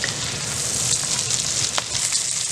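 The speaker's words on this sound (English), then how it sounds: "get that butter to bubble up, and you kind of want to go like this so the butter goes all over the steak" Butter bubbles and sizzles loudly in a pan around a steak being basted, a steady dense hiss with small crackles and no voices.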